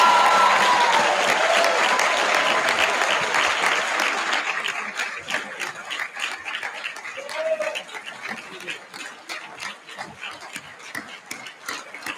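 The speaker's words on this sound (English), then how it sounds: "Big applause for this class of 2023." A commencement crowd gives the graduating class of 2023 a big round of applause, loud and dense at first, then thinning into scattered individual claps with a few voices and cheers mixed in.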